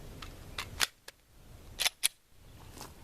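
A Glock pistol fires its last round and the slide locks back: a few sharp, brief cracks and clicks spaced across a quiet background, fairly close, with no talking.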